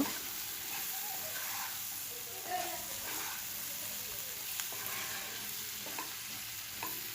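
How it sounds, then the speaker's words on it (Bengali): Okra fries and sizzles in a pan while being stirred, a steady close hiss with scraping and stirring clatters scattered throughout. "ঢেঁড়সগুলো দিয়ে নেড়ে চেড়ে নিচ্ছি। খুব ভালো করে নেড়ে চেড়ে সব কিছু মিশিয়ে নেব।"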